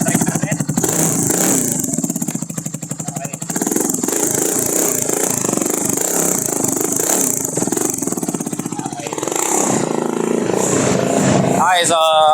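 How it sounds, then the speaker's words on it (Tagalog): A 200cc motorcycle in neutral revs its exhaust up and down, a loud, close, rattling engine note that swells and falls repeatedly, with people talking over it. "Papasilinyador ko lang sa kanya kung paano yung tunog ng ating tambucho."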